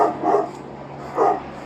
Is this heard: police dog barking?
yes